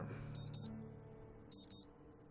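Alarm clock in the video game Project Zomboid going off: two pairs of sharp, high electronic beeps, loud and clean against a low background hum.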